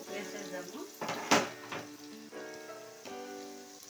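Ginger garlic paste frying in a pan for khichdi, a soft steady sizzle with a few sharp utensil clinks and scrapes, while someone talks over it.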